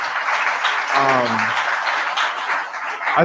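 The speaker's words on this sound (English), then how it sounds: "if everyone could give Reggie a great round of applause" Applause from an audience at a morning talk show, a moderate wash of clapping that continues beneath a short spoken phrase from a man.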